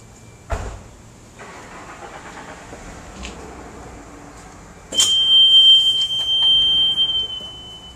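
A loud mechanical thump and hiss from a pneumatic bending table, then a steady high electronic alarm tone sounds over the machine's hum as the press comes down.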